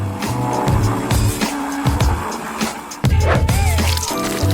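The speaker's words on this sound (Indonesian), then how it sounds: "Dan tentu saja, kita nyalakan blendernya." Kitchen blender whirring through a watermelon dessert with whipped cream: a loud, continuous motor roar that dips briefly partway through, then surges back.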